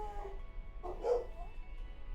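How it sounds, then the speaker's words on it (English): Small dogs give a short burst of yips and barks at medium distance, one brief cluster rising above steady low background noise, with no talk over it. "And then my dogs decide to bark."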